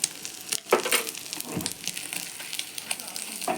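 Spoon omelette frying in hot oil in a pan, a close steady sizzle and crackle with a few clinks of a spoon, no talking.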